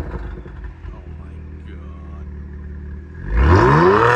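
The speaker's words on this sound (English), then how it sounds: "My setup is arc downpipe and Borla catback exhaust." A 2023 Kia Stinger GT2 with a downpipe and Borla catback exhaust idles with a low rumble, then revs sharply near the end, the exhaust note rising loud and close.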